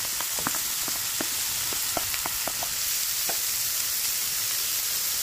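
Garlic and onion sauté in a pan for pork adobo, giving a steady sizzle with scattered sharp crackles and pops. No one speaks over it.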